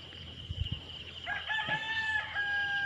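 A rooster crows loudly and close in a backyard garden, a drawn-out ringing call, following a few soft clucks and low thumps.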